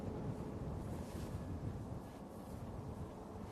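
Wind at Manchester Airport buffeting an outdoor microphone, a steady loud rumbling roar with gusty fluctuations and one brief sharp knock at the end.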